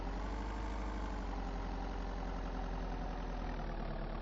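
A vehicle engine idles steadily in the zombie survival game Vein, a constant low rumble that stays loud and unbroken throughout, with no talk over it.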